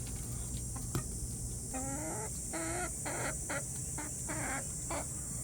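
Chickens cluck in a flock suffering in summer heat, fed frozen corn on the cob as a treat; a run of short, repeated clucks and squawks rises over steady background hum, close and fairly loud.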